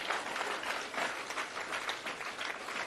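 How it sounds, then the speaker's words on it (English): ANC members applaud comrades in a meeting hall, a dense, continuous hiss of clapping heard fairly faint and distant with no talk over it. "I want us to give these comrades a good round of applause"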